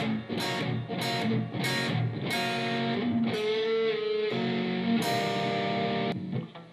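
An electric guitar plays the opening verse riff of a blues-rock song slowly, with separate plucked and strummed notes and chords that ring out one after another, clear and close with no talking.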